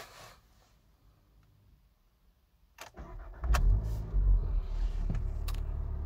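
A Volkswagen Golf GTI Performance with 245 hp fires up after quiet cabin sounds: a clicking starter catch, a sharp roar as the engine revs, then a loud steady idle close by.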